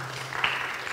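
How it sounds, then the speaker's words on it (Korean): Church congregation applauding during a worship service: a brief, dense wash of clapping at moderate volume, lasting only about a second. "우리 박수 한번 보낼까요?"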